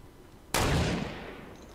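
A single gunshot in a video game bursts out sharply, loud and broadband, then rings into a decaying tail with no speech over it.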